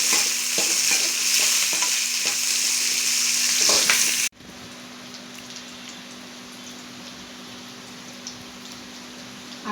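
Onions, curry leaves and dried chillies hit hot oil and are stirred, giving a loud, crackling sizzle with scraping for about four seconds, then a softer, steady fry.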